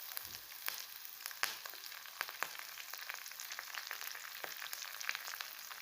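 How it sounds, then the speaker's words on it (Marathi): Curry leaves sizzle in hot oil with peanuts for kanda pohe, a bright steady crackling hiss with scattered sharp pops, close and alone. "आता वरून आपल्याला कढीपत्ता टाकायचा आहे."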